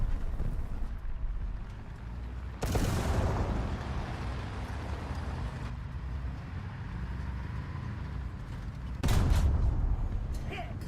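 Tank cannon blasts and machine gun fire in War Thunder, with loud sharp bursts around three seconds and again near nine seconds over a steady rumbling battlefield background, plus brief voice.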